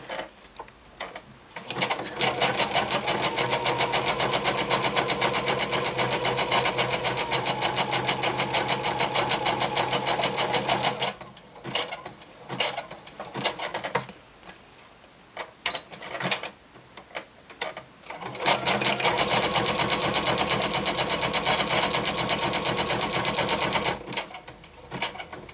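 A sewing machine stitching fast in long continuous runs, a rapid even mechanical whirr and clatter, close and steady, broken by short pauses and a stop-start stretch in the middle.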